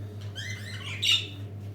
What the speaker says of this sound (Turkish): Gördüğünüz gibi burada muhabbet kuşları getirdik arkadaşlar.